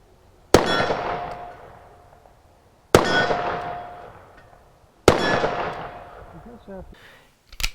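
Armi San Marco 1860 Army percussion revolver mechanism, three loud, sharp metallic snaps spaced a couple of seconds apart, each ringing and fading slowly, heard close with no talking.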